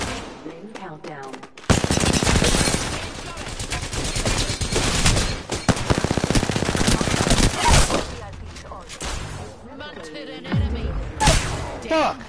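Sustained automatic gunfire from the Apex Legends battle royale game, loud, dense rapid bursts starting sharply and continuing with short pauses, mixed with in-game voices and effects.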